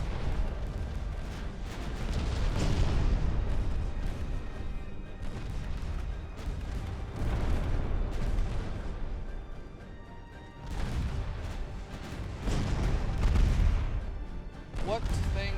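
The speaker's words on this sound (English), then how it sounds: "Torpedo detonation." Torpedo detonations and naval gunfire in the Ultimate Admiral Dreadnoughts warship battle game, heavy booming blasts and rumbling impacts repeating in loud waves throughout, with brief quieter lulls between.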